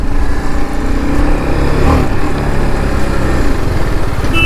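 A 2023 TVS Apache RR310 motorcycle is ridden at steady speed, its engine giving a loud continuous drone mixed with wind rush.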